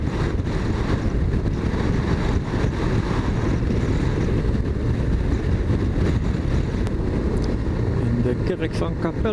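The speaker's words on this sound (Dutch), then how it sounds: "wat een wind zeg." Strong wind buffeting while riding a BMW R1300GS motorcycle, a continuous loud low rumble of wind noise across the microphone with someone speaking briefly over it.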